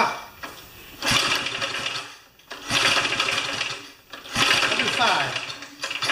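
A small motor cranks over repeatedly during a compression test, three loud bursts of rough mechanical churning separated by short pauses, close up.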